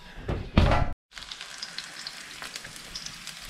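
Shallot frying in a pan for stuffed potimarron, with a loud burst of sizzling as it hits the hot fat, a brief cut, then a softer steady crackle and spatter.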